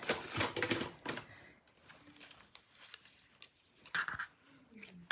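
Scissors trim the edges of paper in a quiet crafting session, making a series of soft, close snips and crisp paper rustles spread irregularly through the passage.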